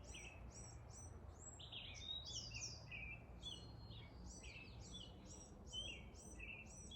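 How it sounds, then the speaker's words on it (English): Several birds chirp and tweet outdoors in quick, repeated bursts of high calls, fairly faint over a soft background hum. "Listen to the birds chirping."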